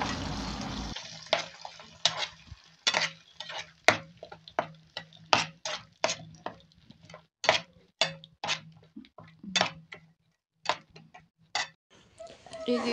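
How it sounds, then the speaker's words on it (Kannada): A spoon mixes masala and tempering into cooked rice in a pan for butti rice, giving sharp, rhythmic clinks and scrapes, about two a second, close and clear against a quiet background. "ಇದನ್ನೀಗ ಚಂದಗೆ ಮಿಕ್ಸ್ ಮಾಡ್ಕೋಬೇಕು."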